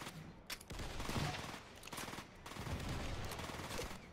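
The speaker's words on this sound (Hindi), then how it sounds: "पता नहीं कौन सी मशीन गन कोई चला रहा है मेरे ऊपर" Sustained machine gun fire in IGI 2: Covert Strike at the bridge across the Dnestr, coming in dense repeated bursts with short gaps, fairly distant and quiet.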